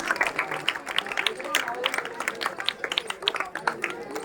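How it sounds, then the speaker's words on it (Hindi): Children clap to welcome guests at a government senior secondary school flag-hoisting ceremony in Karsola, with scattered, uneven claps and a faint crowd murmur throughout. "आपकी क्लैपिंग रुकनी नहीं चाहिए प्यारे बच्चों"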